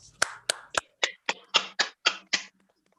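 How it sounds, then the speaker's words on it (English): A small audience claps at a senior high school English competition final, nine sharp, evenly spaced claps or bursts over about two and a half seconds, fairly close, with no talk. "So please give big applause to Miss Elsa Widya Hapsari."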